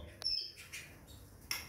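Small birds at a backyard bird bath on a hot day give a few brief, high chirps spaced apart, fairly faint against a quiet background.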